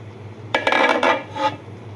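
A lid set onto a cooking pot of fusilli pasta in creamy soup with evaporated milk, giving a brief cluster of close metallic clanks and rattles lasting about a second amid quiet kitchen hum.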